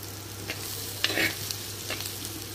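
Bitter gourd frying in a clay pot with little oil gives a constant close hiss, broken by a few soft scrapes of a spoon stirring through it.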